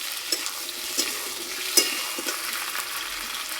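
Tomatoes go into a pan of fried potatoes and spices, sizzling steadily while a spoon scrapes and stirs in light, irregular taps close by.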